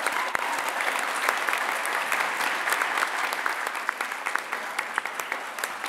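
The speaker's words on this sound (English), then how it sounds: "Can you please give our Year 9 award recipients a massive round of applause?" Sustained applause from a large crowd at a high school presentation day for Year 9 award recipients, steady clapping filling the room for several seconds with a few sharper individual claps standing out.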